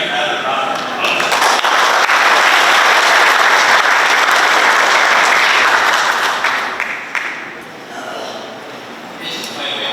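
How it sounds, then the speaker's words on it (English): Audience applause at a church general assembly, a loud dense roar of many hands clapping that swells and holds, then thins out and tapers toward the end. "Let's give him another round of applause."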